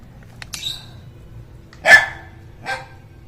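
Several dog barks from a rural yard in the Philippines, a short yip followed by two louder, sharp barks spaced about a second apart, fairly close, with no talking.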